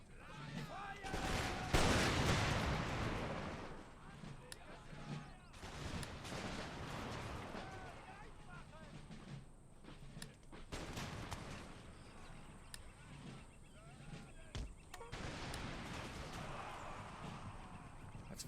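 Musket volleys from line infantry regiments in Empire: Total War crackle in dense, overlapping bursts across a battlefield, with scattered follow-up shots and rumbling fire throughout, while someone talks intermittently over the din.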